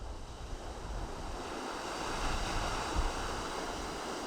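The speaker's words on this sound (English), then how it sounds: "It's about 100 feet tall, fairly large waterfall." North Clear Creek Falls, a partially frozen waterfall about 100 feet tall in the Colorado mountains, gives a steady, broad rushing roar that swells slightly midway, with wind buffeting the microphone and no talking.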